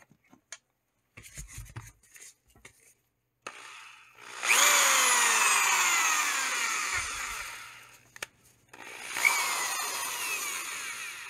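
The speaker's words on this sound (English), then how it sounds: "let's just make sure this drill is still working." After some handling clicks, a DeWalt power drill whirs up to speed and runs for several seconds, stops briefly, then spins up again, close and loud.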